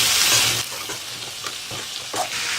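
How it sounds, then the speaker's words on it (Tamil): Chopped chow chow (chayote) sautéing in hot oil in a pan for a kootu, a steady close sizzle with intermittent scraping stirs, no talking. "கொஞ்ச நேரம் எண்ணெயிலே வதக்கலாம்."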